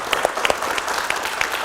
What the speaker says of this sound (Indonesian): Kita beri tepuk tangan kepada